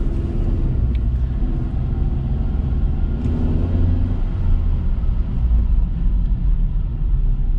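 A car drives steadily during a driving lesson, heard from inside as a constant low engine hum and road rumble with no clear gear changes or revving.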